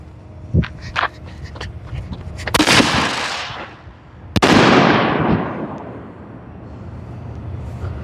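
Scatter bomb canister shell fireworks go off nearby, with sharp pops followed by two loud booming bursts whose crackling, hissing tails fade over several seconds.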